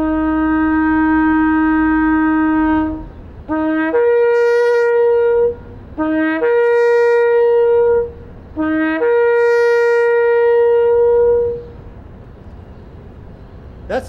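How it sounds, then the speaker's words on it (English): A horn sounds loud and close: one long sustained blast, then three shorter blasts that jump up to a higher pitch and hold, ending abruptly. "I'm going to sound this horn."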